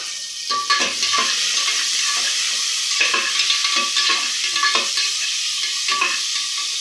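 Onions frying in oil with popped mustard seeds, stirred in a pan for egg biryani, a steady close sizzle with repeated spoon scrapes and stirring strokes.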